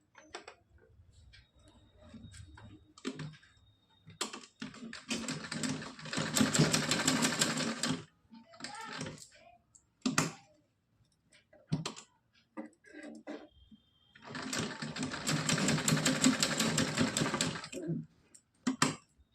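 A sewing machine stitches a cotton night dress for a Laddu Gopal doll, running in two long loud bursts of rapid whirring with shorter stop-start runs and clicks between them, close up and with no talking.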